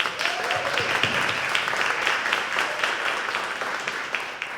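Audience applause at an academic symposium on human rights and nonviolent social change, a steady wash of many hands clapping, moderately loud and sustained without speech.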